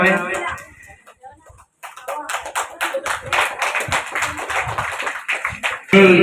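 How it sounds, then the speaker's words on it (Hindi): Audience clapping at a school gathering welcoming the village head, bursts of applause rising after a brief lull and continuing steadily, with a voice speaking over the start and end. "तो जोरदार तालियां बजाकर सर का स्वागत अभिनंदन करावें।"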